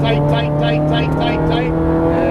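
A Ferrari 430 Scuderia on a racing track revs hard under acceleration, its engine note loud and close and climbing through rapid repeated pulses while an instructor talks over it.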